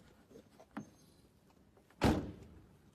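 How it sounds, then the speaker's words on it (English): A faint click is followed by a single louder thunk of a Toyota Yaris door being opened, close by in a quiet setting. "Turn on. Open the door."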